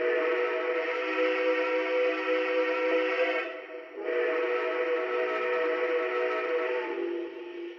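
A Lionel Dreyfuss Hudson model train whistle sounds two long, steady blasts separated by a brief pause, the second fading slightly at the end.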